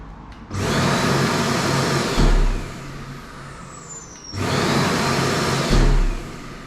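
A Bosch GAS 35 M AFC dust extractor starts up, runs for a couple of seconds, cuts out, then starts again, each run a loud steady whooshing roar with a brief low thump as it shuts off.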